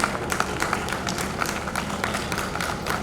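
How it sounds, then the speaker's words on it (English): An audience applauds at a school annual day prize distribution ceremony, a steady stretch of many hands clapping with distinct individual claps, moderately loud and continuous. "Please give her a big hand."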